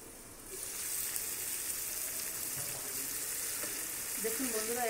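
Stuffed pointed gourds fry in a pan, a steady, close sizzle that swells after a quieter start, with faint stirring and a few low background murmurs.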